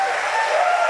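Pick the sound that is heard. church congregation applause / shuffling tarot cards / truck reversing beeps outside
church congregation applause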